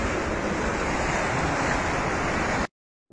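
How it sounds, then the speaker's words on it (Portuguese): Heavy floodwater rushing down a street after intense rain in Mimoso do Sul, a steady loud roaring wash of water with wind noise on the microphone, continuous for most of the moment before cutting off abruptly. "descendo muita água ali"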